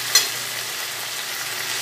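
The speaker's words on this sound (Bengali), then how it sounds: "এবার কেটে রাখা টমেটোটা আমি দিয়ে দিচ্ছি।" Chopped tomato drops into taro (gati kochu) frying in oil with one soft thud, followed by a constant, even sizzle that carries on close by with no voices.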